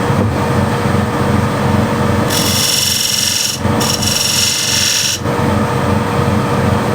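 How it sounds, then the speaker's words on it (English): A spear point scraper cuts into a wooden bead bowl under a loud, steady mechanical whir, adding a bright, hissing scrape for about three seconds with a brief break partway through. "I have a spear point scraper as well, which can get me right into the corner here."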